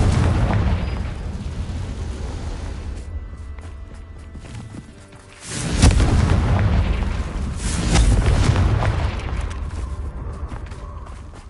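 Confringo blasting spells going off in the Hogwarts Legacy video game, a run of loud booming explosions and bursts with rumbling mechanisms, easing off briefly before a heavy blast and further roaring impacts.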